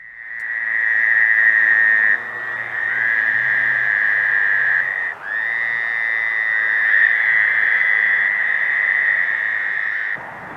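Fowler's toads call at night from a rainwater pool, a loud, continuous high nasal trill sustained for long stretches with brief breaks and a second trill overlapping, faint lower croaks beneath.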